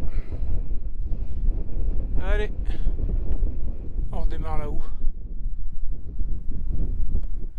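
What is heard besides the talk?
strong wind on a mountain hike, wind noise on microphone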